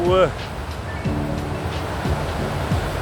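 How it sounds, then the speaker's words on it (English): Water rushing steadily over a weir, a continuous broadband roar heard outdoors, with a voice speaking over it. "plenty of water in the weir today."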